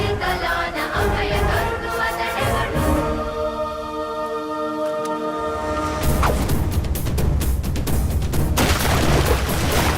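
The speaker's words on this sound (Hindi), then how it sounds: "निशाना लगाओ, लीवर पीछे और बूम" A lever-action gun fires with a deep, booming report and a rolling, reverberant tail. A second loud burst follows a few seconds later over a dense, dramatic background.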